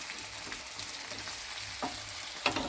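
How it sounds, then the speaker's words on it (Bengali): Crushed ginger and garlic fry in a pan, giving a soft, steady sizzle with a few louder stirring scrapes near the end, and no voices. "একটুখানি ভাজা হোক আদা রসুনটা।"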